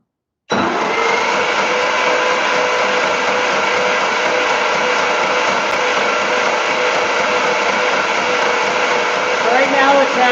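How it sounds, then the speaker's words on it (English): A junkyard GM 4.8L or 5.3L V8 is cranked over during an oil pressure test, giving a loud, steady, motorized whine that starts abruptly and runs unbroken for about ten seconds with no talking. "you'll just watch that when I crank it over"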